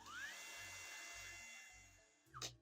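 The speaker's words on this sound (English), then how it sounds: "we're using this auto brushless drill to actually unscrew it" A brushless electric screwdriver whirs steadily while unscrewing a motherboard heatsink on a gaming PC build, a close high-pitched motor whine that winds down and ends with a brief final burst.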